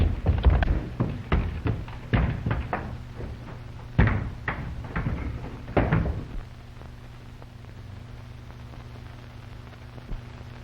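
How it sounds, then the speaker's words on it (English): Upstairs door in an old tavern being tried, a burst of rattling knocks and thumps of the door and handle in the first six seconds, then quiet room tone with a last faint bump. "See if that upstairs door is locked."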